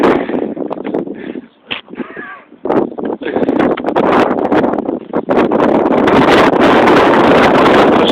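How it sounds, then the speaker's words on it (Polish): Strong gusting wind off the sea roars and buffets the microphone in a continuous heavy rumble, with rustling noise and no clear voices. "Straszny wiatr od morza jest."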